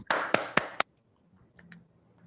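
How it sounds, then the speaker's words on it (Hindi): Four sharp, close hand claps welcome a speaker at a Hindi Toastmasters club evening, then stop short into near silence with faint room sounds. "तालियों से वीना जी का हार्दिक अभिनंदन किया जाए"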